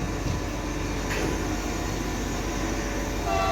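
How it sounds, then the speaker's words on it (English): Train at the San Jose railroad station in Costa Rica, a steady rumbling wash of rail noise held at an even level throughout, with a brief higher screech near the end. "This is the train."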